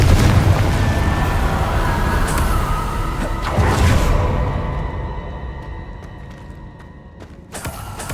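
A Confringo fire spell exploding in the video game Hogwarts Legacy: a loud booming blast with rumbling debris that gradually fades over several seconds, followed by fainter ringing game effects.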